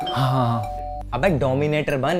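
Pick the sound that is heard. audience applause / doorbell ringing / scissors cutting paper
doorbell ringing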